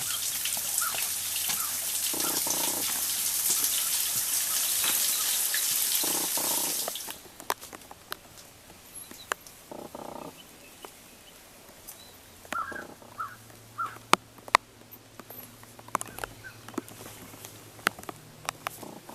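Rain falls on a forest hiking trail: a dense, steady pattering hiss for about seven seconds, then sparser scattered drips and taps.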